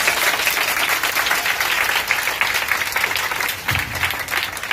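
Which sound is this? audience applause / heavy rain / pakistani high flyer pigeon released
audience applause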